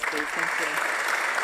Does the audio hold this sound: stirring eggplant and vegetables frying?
no